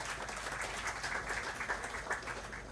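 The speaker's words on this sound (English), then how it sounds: "Give a big round of applause to Suresh" Applause at a startup conference in Guwahati, Assam: a faint, continuous crowd clapping with dense rapid hand claps, heard from a distance with a low background rumble.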